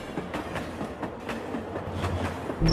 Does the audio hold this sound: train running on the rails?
yes